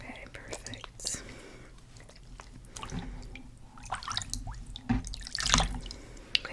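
Water drips and splashes as hands are rinsed during a close-up whispered skincare session, with soft irregular trickles, wet squishes and a louder splash near the end, and a whispering voice underneath.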